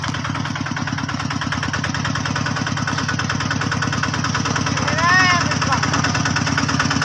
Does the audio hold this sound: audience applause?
no